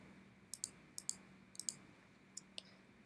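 Computer mouse clicks during Photoshop blemish retouching, a series of sharp, close clicks in small pairs and singles over a faint steady hum, with no talking.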